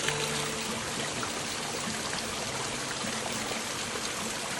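Mountain stream at a water source on the Thatharana trek, a steady, close rush and trickle of flowing water filling the whole stretch with no breaks, no talk.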